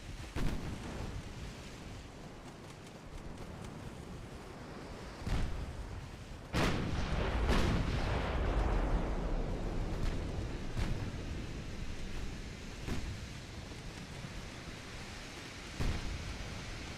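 Naval gunfire in Ultimate Admiral Dreadnoughts: scattered distant booms of warship guns over a steady sea-wind hiss, with one big close blast swelling into a long rumble.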